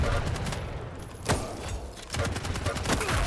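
Rapid video-game gunfire in a fast arena shooter, close and loud bursts of shots with sharp impacts and a brief pause midway.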